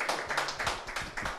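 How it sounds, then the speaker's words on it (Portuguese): A few people clap in a live-streamed studio broadcast from Curitiba, a short, quiet burst of uneven hand claps with distinct individual slaps, no voices over it. "Uma salva de palmas."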